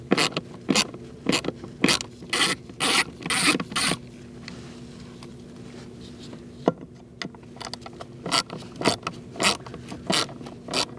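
A ratchet with a 5.5 socket and extension works bolts loose on a 2004-2012 Chevrolet Colorado blower motor resistor, giving repeated close bursts of quick clicking in uneven runs with short pauses between them and no talk.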